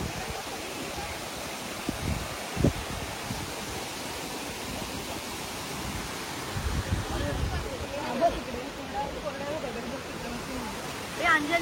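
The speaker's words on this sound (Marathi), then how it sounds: "मोठा आहे धबधबा" The large Bhagirath waterfall at Vangani gives a steady, broadband roar of falling water that fills the whole stretch, with faint murmured voices and small bumps of nearby movement.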